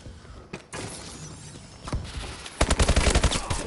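Video game gunfire in a shotgun-focused shooter match, scattered shots early followed by a rapid loud burst of repeated firing toward the end, close and punchy with no talking.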